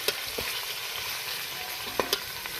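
Chicken pieces frying with browned onions in a pan for Pakistani-style chicken pulao, a steady broadband sizzle with a few sharp spoon-scrape clicks from stirring, close up and without talk.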